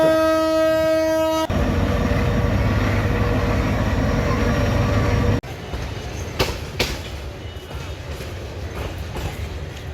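A passenger train on the line toward Bhairab station sounds a long harmonic horn, then rolls on with a loud steady rumble that drops to lighter clattering wheels and a few sharp clanks.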